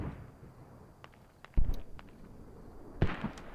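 Sharp, fairly distant bursts of mortar fire in the military shooter game Squad, two main blasts with scattered smaller cracks and thumps between them over a quiet background.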